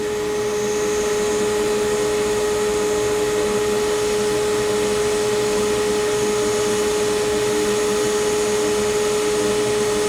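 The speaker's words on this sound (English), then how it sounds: "we have here our fume extractor on" A soldering fume extractor fan runs steadily and loudly throughout, a constant broadband whir with a steady hum and no talk, during desoldering repair work on a Yaesu 857 radio.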